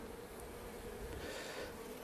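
Honeybees swarm around an open, populous hive during hot weather, making a dense, continuous buzzing drone that stays close and even throughout, with no voices.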